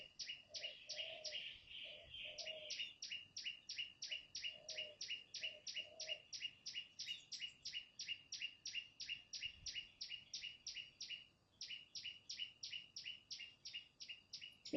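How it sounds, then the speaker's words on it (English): Birds sing steadily and close by, with rapid, evenly repeated chirping phrases that run almost without pause, and a few softer lower calls early on. No one speaks. "Maybe listening to the birds sing"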